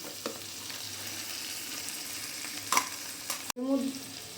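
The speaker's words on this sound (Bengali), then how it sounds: "আমি যে পেস্টটা বানিয়েছিলাম, আদা, রসুন, পেঁয়াজ আর হচ্ছে কাঁচা লঙ্কার পেস্টটা আমি দিয়ে দিলাম।" A paste of ginger, garlic, onion and green chili is stirred in a hot pan, giving a steady low sizzle with a few scraping clicks and a louder burst of frying near the end.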